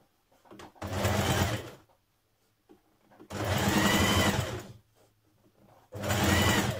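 A sewing machine stitches a double-folded shirt hem in three loud, even bursts of a few seconds each, separated by near-silent pauses.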